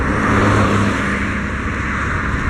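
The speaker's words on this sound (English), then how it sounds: "So there's cars" Steady road traffic at the end of the day, cars rushing by close at hand in a continuous broadband roar with engine hum, heard from a bicycle riding along the roadside with a tailwind.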